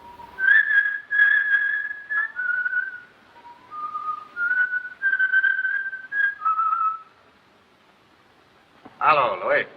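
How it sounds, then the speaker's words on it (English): Someone whistles the sextet from Lucia di Lammermoor, a clear, close melody of held notes and short phrases lasting several seconds, followed by a pause and a brief burst of a voice. "every time he went to kill somebody, he whistled the sextet from Lucia"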